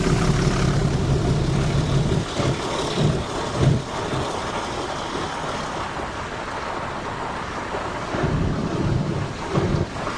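A meter gauge passenger train on the Chalala to Junagadh run pulls out of Dhari station, giving a steady, loud rolling rumble mixed with buffeting wind noise, with a few heavier thumps along the way.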